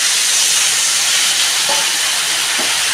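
Water poured into spices frying in a pan for khichuri, giving a loud, steady steaming hiss that holds for the full stretch, with a faint bubbling undertone.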